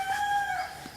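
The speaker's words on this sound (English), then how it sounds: "I'm sorry about the roosters and dogs this morning" Roosters crow in the early morning on a mountain farm, a long tonal call carrying from a moderate distance over steady outdoor background noise, with no talking.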